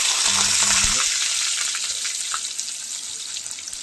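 Fish frying in hot oil with bay leaves, a dense continuous sizzle close by that eases slightly over time, with a short low hum near the start and no talk.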